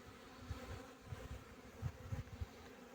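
Bees coming to water buzz close by in short bursts, several insects droning and hovering around, with quiet rustling underneath, on a cool day of about 15–16°C.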